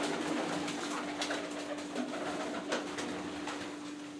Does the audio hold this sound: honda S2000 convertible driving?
no